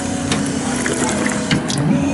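Water running steadily from a drinking fountain at a theme park, a constant loud splashing stream with faint background noise and no talk.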